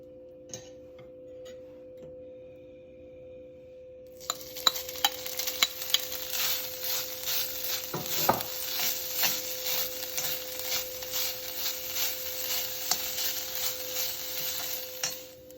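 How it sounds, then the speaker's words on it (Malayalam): Grated coconut sautéed in ghee with sugar is stirred in a pan, a low hiss starting after a quiet opening, then steady scraping and soft ticking of the spoon throughout, close and fairly loud. "ആദ്യം തന്നെ തേങ്ങ നമുക്ക് കുറച്ച് നെയ്യ് ഒഴിച്ചിട്ടൊന്ന് ചെറുതായി ഒന്ന് വഴറ്റിയെടുക്കാം."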